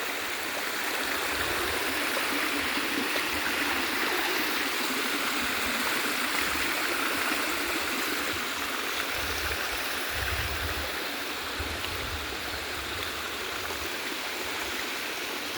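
A steady, full rush of water pours down a waterfall in a natural outdoor setting, a broad continuous roar that holds constant and close for the whole stretch, with no voices over it.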